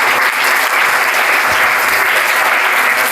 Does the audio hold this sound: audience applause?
yes